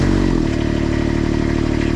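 An engine catches and settles into a steady, rapid idle thrum after a brief rough start, loud and close with a faint rattle, and no voices.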